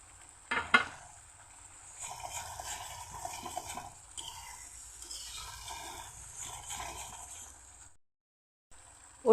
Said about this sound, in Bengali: অল্প কিছুটা জল দিয়ে দিচ্ছি